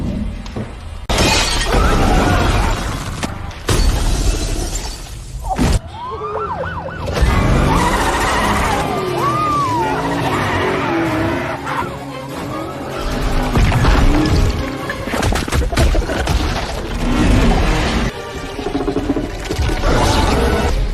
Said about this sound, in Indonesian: Di luar, Carnage menghancurkan mobil-mobil penjaga yang mengejarnya